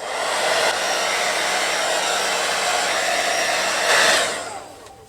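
A hair dryer blowing a steady loud whoosh over a freshly airbrushed acrylic-painted figure, even and close for several seconds before the airflow rises briefly and then fades as it is switched off.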